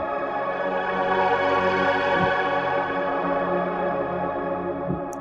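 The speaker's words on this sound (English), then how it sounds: "how you get a nice airy sounding pad using only what is on the Nord Stage 2" An airy synth pad from a Nord Stage 2 with reverb and raised treble holds a steady, breathy sustained chord, dense and even throughout, with no voices.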